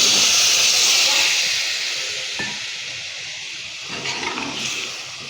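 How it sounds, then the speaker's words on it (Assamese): Water poured into a hot pan of soybean dal sets off a loud, steady steam hiss and sizzle that slowly eases over several seconds, heard close up with no talking. "ইয়াতে এতিয়া মই পানী এড কৰি দিছোঁ।"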